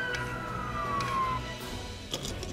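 An ambulance siren wails steadily in the background, its pitch gliding downward, with some scattered knocks and clicks over it.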